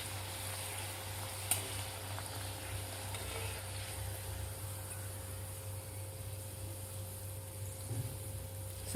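Steady, low crackling sizzle of mango gharge puris deep-frying in hot oil, continuous and fairly faint over a constant hum, with a couple of brief sharper pops and no talking.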